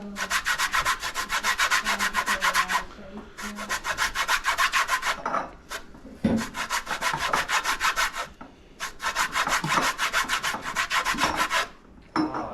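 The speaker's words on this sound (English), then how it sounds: "zesting the lemon" A lemon is zested on a coarse grater, giving repeated rhythmic rasping strokes in close bursts with brief pauses between them.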